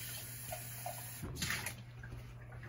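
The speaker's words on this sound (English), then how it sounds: "And rinse this part out." Water runs from a camper faucet while a jar is rinsed out, a quiet steady stream with a brief splashy surge in the middle, no talking.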